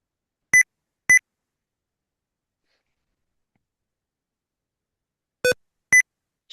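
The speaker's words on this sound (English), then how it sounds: "We just got some beeps and bops" Four short electronic beeps, two close together near the start and another pair after a long silence, each a clear, bright tone standing alone in an otherwise quiet room.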